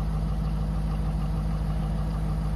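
A diesel pickup truck engine idles steadily after being run on regular gasoline, a constant low rumble with an even throb, close and unbroken with no talk.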